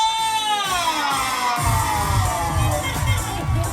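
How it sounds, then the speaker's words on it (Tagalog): An audience claps and shouts together in a lively burst of cheering and whoops, a dense steady crowd roar after a rising shout. "Parinig ng palakpakan may sigawan!"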